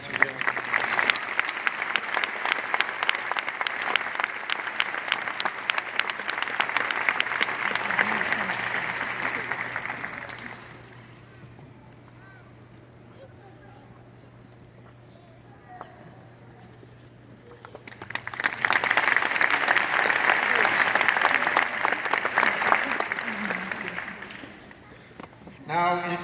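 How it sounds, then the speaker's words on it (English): An audience at the Johns Hopkins 2016 graduation ceremony applauds a professor. The clapping is a loud, dense patter that fades into a quieter stretch and then swells again. "A round of applause, please,"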